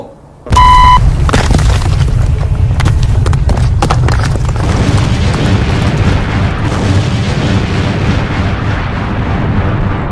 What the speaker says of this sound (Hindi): अब ये कैसा धमाका?